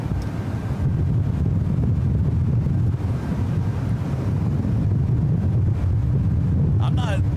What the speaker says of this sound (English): Always windy here.